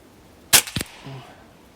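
A Hatsan Sortie semi-automatic air pistol fires a single pellet at a 20-metre target with open sights: one sharp, close crack followed by a short mechanical click and a faint tail.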